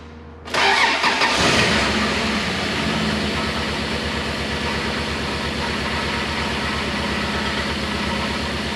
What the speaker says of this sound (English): So it's going to be a quick test, just to see if it runs smoothly.